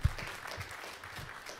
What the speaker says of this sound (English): can we just give a round of applause to Alia